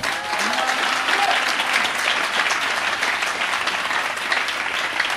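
A church congregation breaks into sustained, dense applause. The clapping fills the room evenly from start to finish, loud and continuous, with no voices standing out.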